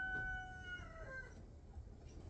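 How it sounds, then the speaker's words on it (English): A pet rooster lets out a single drawn-out crow that sounds faint and somewhat distant, standing alone against quiet background noise. "That's my rooster."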